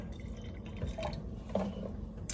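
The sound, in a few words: Ice Mountain water filling a thermos water bottle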